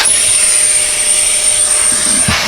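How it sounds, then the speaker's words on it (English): A Hoover garage utility vacuum with 30 feet of hose, wall-mounted in a garage, runs steadily with a loud, continuous whine and airy rush, close by and alone throughout, briefly shifting near the end. "we are using, it's normally on my wall, but the Hoover garage utility vac"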